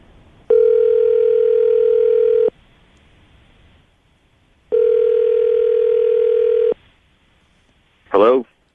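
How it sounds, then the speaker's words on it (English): Two long, steady telephone tones of about two seconds each sound with pauses between them, followed by a brief warbling burst. The tones are loud and close, as heard on a call line. "I'm going to dial the phone number right now and see if we can get him on the phone"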